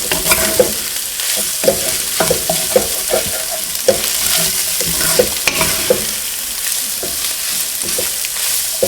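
Sausage stirred with rosemary and thyme in a pan over low heat, a steady close sizzle with repeated spoon scrapes and clacks against the pan throughout, no voices.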